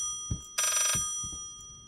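An old-style telephone bell rings once in the Layers of Fear horror video game, a short bright jangling burst between soft footsteps, with no talk.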